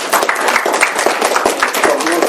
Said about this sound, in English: give me a round of applause for the board